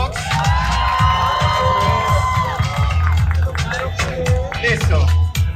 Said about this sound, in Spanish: Aplauso para Darka Beatbox.